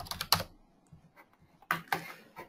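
A few soft computer keyboard key taps in two small clusters separated by a pause, faint and close, with no talking.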